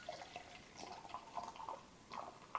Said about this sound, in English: Oh, look at that perfect pour.